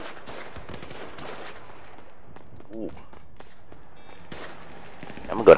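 Scattered bursts of gunfire ring out in the video game Grand Theft Auto 5, some quick and clustered, with a voice talking over them and a louder pop at the end.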